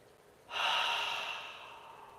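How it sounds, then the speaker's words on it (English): One slow, deep breath is let out close to the microphone. The soft airy exhale starts suddenly and fades gradually over about a second and a half, with no other sound. "Take a slow, deep breath in"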